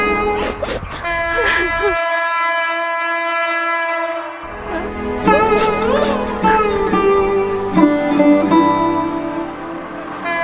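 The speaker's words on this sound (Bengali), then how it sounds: "মা, ট্রেন আসছে মা, চলো সরে যাই।" A train approaches with a loud, sustained horn blaring for several seconds, followed by the rumble and clatter of rail cars close by, while a voice shouts over the noise.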